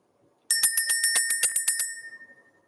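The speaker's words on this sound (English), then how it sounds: "Let's ring the bell." A bell rung to clear energy gives one bright struck ring that pulses about ten times in quick succession, then fades out over roughly a second, alone and fairly close.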